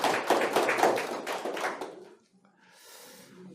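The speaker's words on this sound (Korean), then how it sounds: "환영한다는 큰 박수 한번 보내주시면 고맙겠습니다" Villagers gathered at a Confucian culture education hall give a short burst of close, brisk clapping that stops suddenly after about two seconds, followed by quiet room noise.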